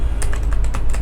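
Rapid keystrokes clatter on a computer keyboard as Flutter code is written, a quick uneven run of close, crisp clicks over a low background hum.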